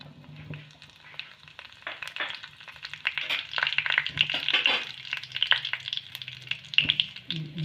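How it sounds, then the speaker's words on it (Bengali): Whole cumin seeds frying in hot oil for an arhar dal tempering, a light crackling sizzle that swells midway and carries on with small pops and stirring scrapes, fairly close, no voices. "তেলটা গরম হয়ে গেছে, এখানে দেব আমি 1 চামচ গোটা জিরে।"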